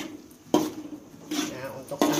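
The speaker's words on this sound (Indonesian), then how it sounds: "Aku dionseng dulu, ditumis dulu ini si bumbunya gitu ya" Rendang spice paste and chicken are sautéed in a pan, with three sharp clatters of a utensil against the pan between quieter stretches of low sizzling, heard close and moderately loud.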